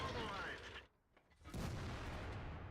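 A World of Tanks IS-6 heavy tank fires its cannon in the game, loud booming blasts against constant battle noise, with a brief lull in the middle before the roar returns.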